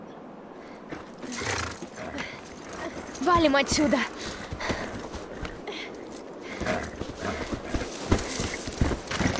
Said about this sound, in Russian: Там, наверное, лошадь уже отъехала.